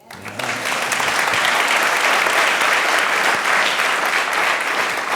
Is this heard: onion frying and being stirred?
no